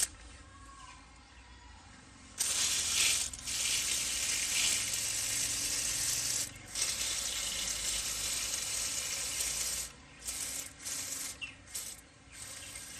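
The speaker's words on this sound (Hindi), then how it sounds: "पानी इतना लगाना है कि जो हमारी कोकोपीट है इसमें अच्छी तरह पानी चला जाए" Water pours and splashes onto a cocopeat seedling tray for bottle gourd seeds, a continuous close hiss and trickle starting after a quiet moment and pausing briefly a few times.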